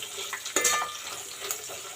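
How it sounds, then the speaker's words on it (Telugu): Chopped medium-size onions sizzle in a pan, a soft steady hiss with a few faint scrapes and clinks, fairly quiet and without talk. "ఇప్పుడు మనం ఆనియన్స్ వేసుకుందాము."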